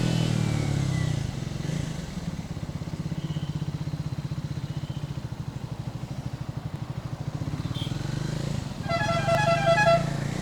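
A Triumph Thruxton 400 motorcycle rides along with a steady, throbbing engine pulse that rises and falls with the throttle, followed near the end by a short burst of horn honks from traffic.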